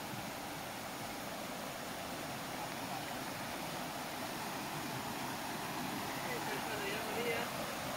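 Small waterfall of clear, cold water at Hpa-an in Kayin State, Myanmar, giving a steady, even rush of falling and splashing water with no break across the whole stretch.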